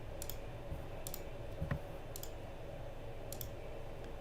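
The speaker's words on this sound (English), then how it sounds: "I'm typing on it." Faint, sparse key clicks from a computer keyboard sound in small irregular clusters against a quiet background.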